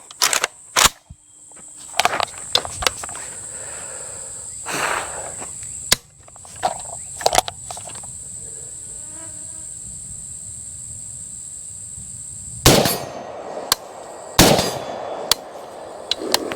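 Rapid gunfire from a Polish FB Radom Beryl M1 AK-pattern rifle in 7.62, a string of sharp, loud broadband shots spread irregularly through the magazine with quiet gaps, insects chirping in the background between shots.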